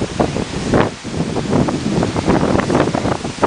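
Strong wind blows during a tornado warning, roaring and buffeting hard against the microphone in loud, continuous gusts with no voices.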